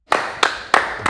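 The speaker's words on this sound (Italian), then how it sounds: "Applauso." Three sharp, separate hand claps ring out close by at an even pace, with a fourth beginning as the sound cuts off.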